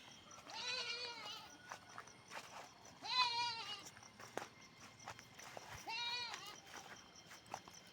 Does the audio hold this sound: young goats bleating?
yes